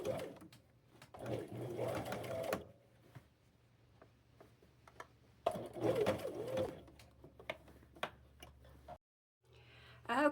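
A sewing machine stitches fabric for a dress, running in two steady bursts with quieter pauses between and a brief silence near the end, with faint cooing birds in the background.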